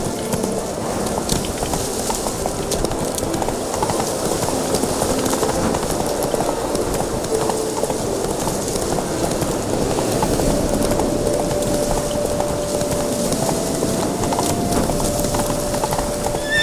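In the video game The Witcher 3: Wild Hunt, a horse gallops with steady, rapid clip-clop hoofbeats. The rhythmic hooves continue throughout over game ambience, and a faint tonal hum enters in the second half.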